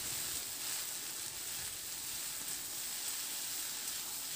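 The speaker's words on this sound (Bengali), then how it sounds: "তো আলুটাকে একটু নাড়াচাড়া করে ভেজে নেওয়ার পর এবার আমি কেটে রাখা চিচিঙ্গাটাকেও দিয়ে দিয়েছি।" Snake gourd and potato pieces fry in a pan, giving a steady, even sizzle and hiss that runs unbroken at close range, with no talking.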